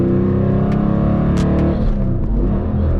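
A Dodge Challenger engine roars close and loud in third gear, its tone rising, then dipping and wavering during a no-clutch shift attempt.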